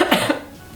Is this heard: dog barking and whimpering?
no